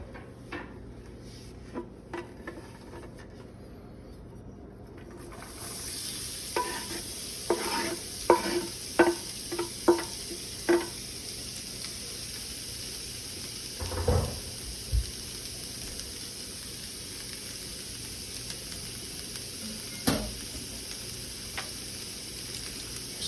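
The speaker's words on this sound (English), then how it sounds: "Stir this around for a few minutes just to get your onions nice and translucent and soak up that fat." Diced onions hit a pan of bacon fat, setting off a continuous sizzle. A run of sharp clacking stirring strokes follows, then a few heavier knocks and scrapes later on, all without talking.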